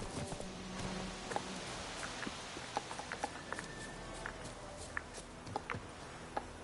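Roach, the horse in The Witcher 3 video game, trots along a road with steady clip-clop hoofbeats at moderate distance, sounding over a rustling outdoor ambience with a few sharper hoof strikes standing out.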